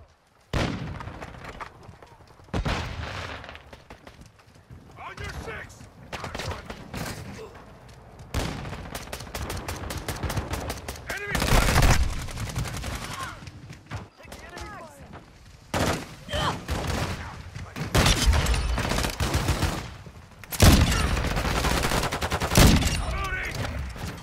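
Gunfire in a video game deathmatch: rapid automatic bursts and sharp single shots in dense clusters, with heavier blasts between them, close and loud, separated by brief quieter gaps, while voices speak briefly in between.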